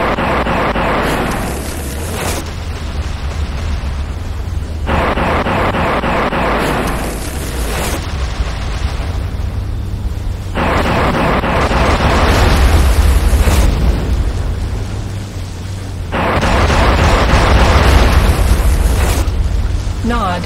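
Nod buildings exploding under attack in the Renegade video game: several big rumbling blasts arrive in separate waves a few seconds apart, each a loud sustained roar with deep low-end weight.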